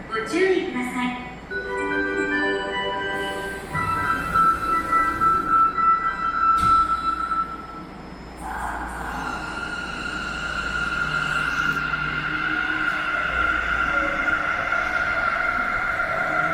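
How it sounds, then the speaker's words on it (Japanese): A Sendai subway Tozai Line train pulls away from platform 2, its motor whine rising and rumbling under station chimes and an announcement voice, with the tone climbing steadily as it departs. "2番線から電車が発車します。"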